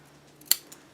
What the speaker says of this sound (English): I am just going to cut it right about here.